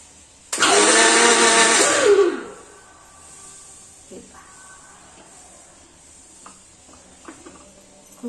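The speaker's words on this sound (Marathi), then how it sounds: "मिक्सरला बारीक करून घेऊया हे पहा अशा प्रकारे मिक्सरला आपण गार झाल्यावर डाळ दळून घ्यायची" Kitchen mixer grinder whirring loudly on cooked chana dal for puran for about two seconds, then switched off, leaving faint clinks and handling sounds.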